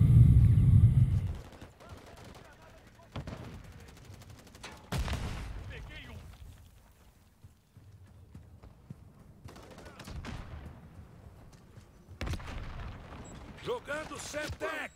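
Bursts of gunfire and heavy blasts, including Semtex grenades, erupt intermittently in Call of Duty: Modern Warfare III, with rapid shots and booming impacts separated by quieter stretches and occasional talk.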